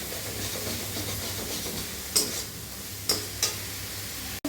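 Spiced masala fries in oil in a pan for a Pabda fish curry, giving a soft continuous sizzle with a few sharp stirring clicks and scrapes, ending in a brief knock.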